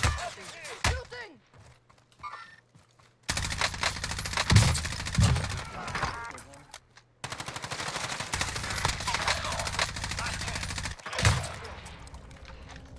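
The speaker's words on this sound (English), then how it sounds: "Shooting." Video game gunfire rattles in rapid automatic bursts, close and loud, with sharp single cracks scattered around them and pauses of quiet in between.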